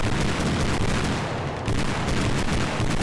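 Heavy gunfire and booming combat in the video game Squad as a TOW missile strikes a BMP, a dense continuous roar of shots and blasts with no clear single impact standing out.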